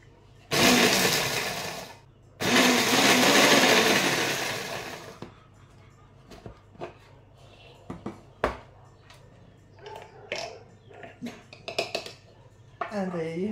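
A blender or small food processor grinds air-dried spinach leaves into powder in two loud whirring bursts, one short and one longer, followed by quieter clatters and knocks of the container and lid being handled.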